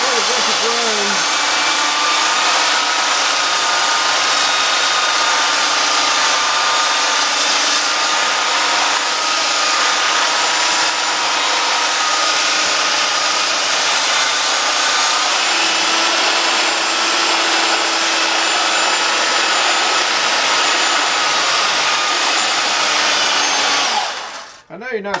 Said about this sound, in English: I'll sand it down so those cross grains don't show.